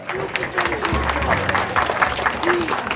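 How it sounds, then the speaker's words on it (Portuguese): Crowd applause at the opening of a children's space for young Cruzeiro players, steady clapping with voices and some cheering mixed in throughout. "Vamos aplaudir."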